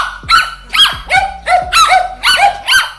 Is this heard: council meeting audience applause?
no